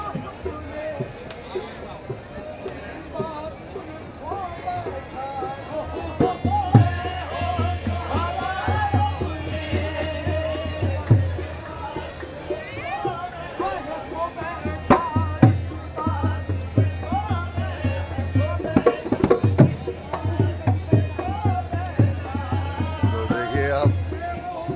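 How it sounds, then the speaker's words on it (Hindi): Dense crowd chatter fills a packed dargah shrine during a qawwali program, a steady murmur of many voices with footsteps and scattered knocks throughout. "भीड़ का आलम बहुत है और दरगाह शरीफ में पैर रखने की जगह नहीं मिल रही है"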